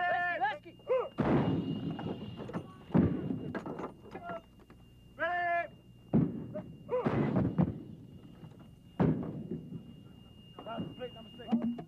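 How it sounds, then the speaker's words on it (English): Artillery fire during the Desert Storm ground assault on Iraqi forces near Cobra Base: repeated loud, booming blasts at uneven intervals, some rolling and echoing, with voices heard between the bursts. "brought other Iraqi forces under artillery fire"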